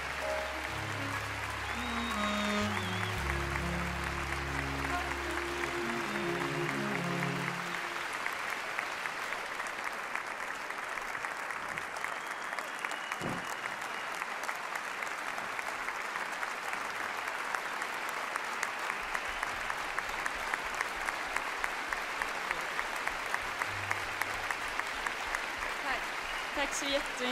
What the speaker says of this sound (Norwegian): Frågan är ju varför ni står upp och klappar när jag kommer då.